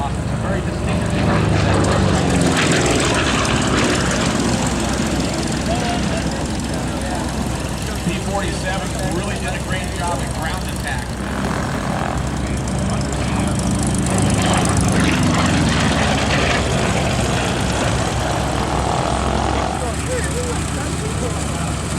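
A P-47 warbird's large radial aircraft engine of over 2,000 horsepower runs with a loud, steady, rumbling drone throughout, close by and unbroken, while someone talks over it.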